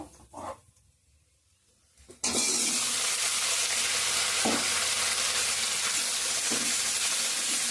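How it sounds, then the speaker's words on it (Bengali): A tempering of onion, dried chilli, bay leaf, ginger, whole garam masala and cardamom bursts into loud, steady sizzling frying after a quieter opening, continuing close and strong to the end. "ফোড়ন দিয়েছি পেঁয়াজ শুকনো লঙ্কা তেজপাতা আদা গোটা গরম এলাইচ হয়ে গেছে ফোড়নটা"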